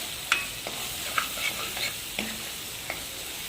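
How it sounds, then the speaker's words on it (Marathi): Spices sizzle and are stirred in a pan for a dal tadka with asafoetida and turmeric, a soft frying hiss broken by several light scraping clicks of a spoon at irregular intervals. "छान मस्त 2 ते 3 मिनटं असं परतून घ्यायचा."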